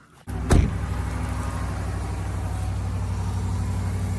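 A Dodge Ram pickup engine cranks and catches with a brief surge, then settles into a steady, loud, rumbling idle that continues unbroken.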